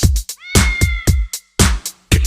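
Cat meows pop out of a kitty cat dance party, short sharp cries in a quick, bouncy rhythm with one drawn-out wavering call, loud and close.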